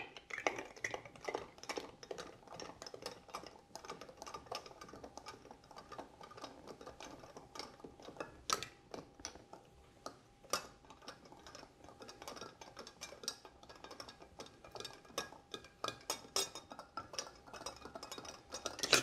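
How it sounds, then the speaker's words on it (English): Ice rattles and clinks steadily against a glass as a cocktail made with Saint Germain is stirred, a soft continuous stream of small ticks with occasional brighter knocks, close and without talk. "And give it a stir."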